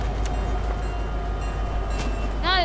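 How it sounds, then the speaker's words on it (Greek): A train rolls past in the video game Fortnite, a steady rumbling roar with rail clatter filling the clip at moderate loudness, as gameplay sounds and a brief chirping effect come in near the end. "Τρένο"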